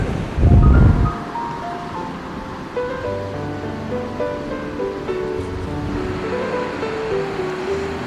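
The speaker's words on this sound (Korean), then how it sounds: "시원하게 쏟아져 내리는 물소리가 얼마나 역동적이고 힘이 넘치는지" Water rushes down through Buryeongsa valley in a steady, broad wash of noise. A heavy gust of wind buffets the microphone near the start, and faint music plays over the flowing water.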